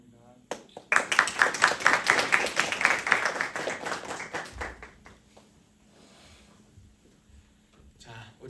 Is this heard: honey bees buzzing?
no